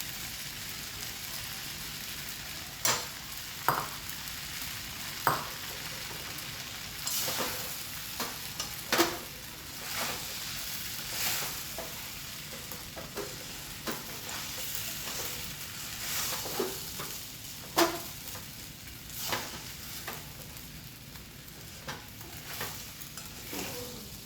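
Fried potatoes are stirred into sabudana khichdi in a pan, with a continuous sizzle broken by repeated spatula scrapes and clinks at irregular intervals, close and without talk.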